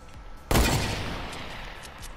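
A sudden burst of gunfire in a Fortnite battle, one sharp loud onset that rings out and decays over a couple of seconds amid faint game background.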